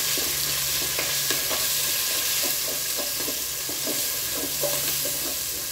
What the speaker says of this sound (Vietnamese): hành đã thơm rồi cả nhà, và mình sẽ đổ cái thịt xay vào nhé